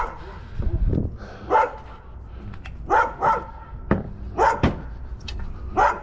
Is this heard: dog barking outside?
yes